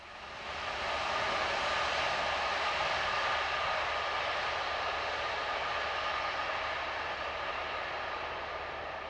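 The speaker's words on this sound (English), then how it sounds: "Just catching us out was 66746 on the 1345 Edinburgh to Boat of Garten luxury excursion train" Locomotive 66746 hauling a luxury excursion train on the Dundee to Edinburgh main line, a steady loud broadband rumble and rush that holds for several seconds and eases slightly toward the end, with no voices.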